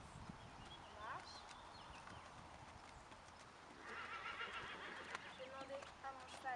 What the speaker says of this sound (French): Je vais demander à mon cheval de s'arrêter.